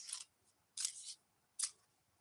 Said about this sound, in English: I want to do another shuffle.